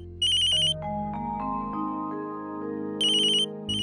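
A phone rings with a bright electronic ringtone melody, close and clear, with no voices.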